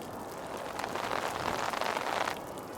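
Steady rain falling and pattering on a surface at a temple in Mahabaleshwar, a continuous hiss that swells slightly in the middle before easing back.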